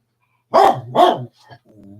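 Dog barking two loud, close barks in quick succession, followed by a brief softer grumble, alone without talk.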